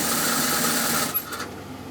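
A sewing machine double stitching pre-prepared piping onto fabric, a steady fast whirring run close up that slows and stops near the end, leaving faint clicks.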